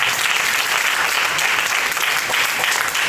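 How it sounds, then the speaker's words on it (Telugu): Congregation applause at a Christmas gospel meeting, many hands clapping in a loud, even, continuous roar for a few seconds, close and unbroken. "క్రీస్తు యేసు వారికి ఒకసారి చప్పట్లు కూడా"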